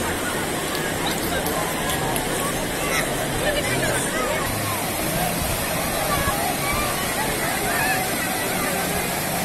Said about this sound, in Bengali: পানির শব্দটা শুনুন শুধু।